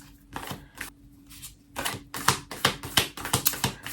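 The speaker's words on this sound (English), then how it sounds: "And I'll draw some cards for each." Tarot and oracle cards are shuffled and drawn by hand, producing a rapid run of crisp, close card flicks and riffles that come in uneven clusters, grow denser and louder toward the end and stand alone without speech.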